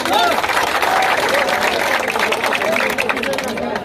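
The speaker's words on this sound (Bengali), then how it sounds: "আমাদের বসুন্ধরা শুভ সংঘের জন্য একটা জোরে করতালি" Loud, dense clapping from a large crowd at a football tournament's closing and prize-giving in Monpura, cheering the team Bashundhara Shubho Sangha; the applause is steady and close throughout, with voices and crowd murmur mixed in.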